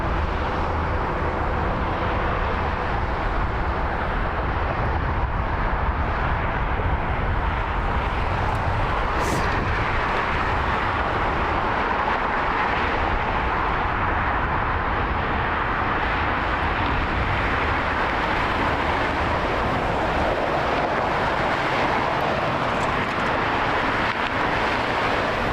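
An airliner touches down at the Las Vegas airport, heard from about three miles off as a broad, steady roar with wind noise that fills the whole stretch evenly and without voices.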